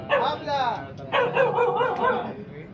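Dog barking and yelping on a crowded Manila street in Tondo, a few sharp barks near the start and middle mixed with people talking nearby.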